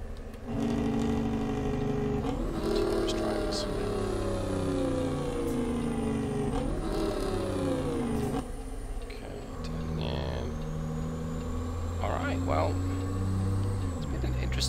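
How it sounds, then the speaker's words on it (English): A custom pickup truck engine in the American Truck Simulator game revs up and shifts through its gears, loud and steady, with rising and falling engine tones and a voice talking over it. "drive with this engine transmission combination"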